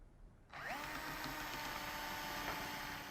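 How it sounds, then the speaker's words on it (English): A power drill drives the included screws into an undrilled housing while mounting a Carrier OptiClean unit, starting abruptly after a brief quiet moment and then whirring steadily and loudly, close by, with its pitch shifting slightly under load. "Now we're going to use the included screws to mount."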